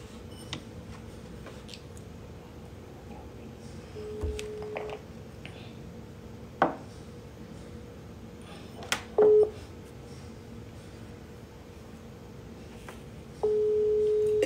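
Sparse phone dialing tones: a few short beeps scattered over a quiet hum, then a steady tone holding at the end. No ringing.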